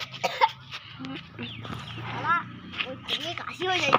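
A man coughs several times in rough bursts, close by, with other voices talking around him outdoors.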